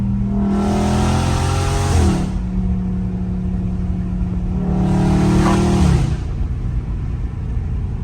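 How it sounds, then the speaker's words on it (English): Two loud engine revs from a nearby car, each climbing sharply then dropping back to a deep idle rumble between them. "Bro, that car sounds so good."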